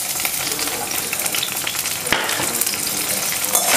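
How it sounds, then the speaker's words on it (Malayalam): Chopped onion fries in oil in a hot pan for a chicken stuffing masala, a loud steady sizzle with occasional stirring scrapes, heard alone up close. "ചട്ടി ചൂടായാൽ നമുക്ക് ആദ്യം കുറച്ച് എണ്ണ ഒഴിച്ചു കൊടുക്കാം. അതിലേക്ക് ഉള്ളി ചേർത്ത് കൊടുക്കാം."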